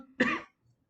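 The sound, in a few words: cough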